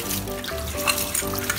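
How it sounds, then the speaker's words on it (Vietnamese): A plate being scrubbed clean by hand under running water at a kitchen sink, a brief burst of wet rubbing and squeaky friction over the hiss of water, close and fairly quiet. "Bạn phải kỳ cái dĩa làm sao cho nó nghe trích trích trích trích"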